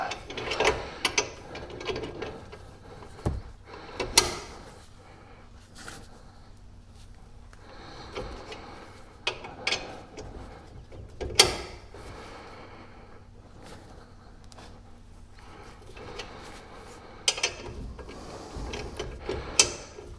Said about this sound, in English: I just crank it slow because I don't want to damage the threads on this tool